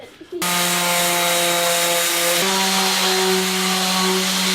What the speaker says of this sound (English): He's working on sanding these shelves the last little bit here.